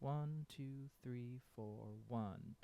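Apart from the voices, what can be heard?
None of the usual background noises is heard.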